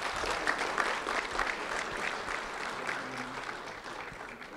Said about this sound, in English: a round of applause for Alaska Bostic, please